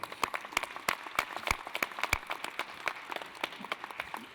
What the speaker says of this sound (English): that is really another round of applause for them